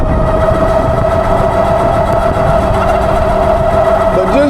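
A Movcan V30 ProMax e-bike motor runs loudly at speed, a steady whining drone with a constant pitch and heavy rolling noise beneath it throughout.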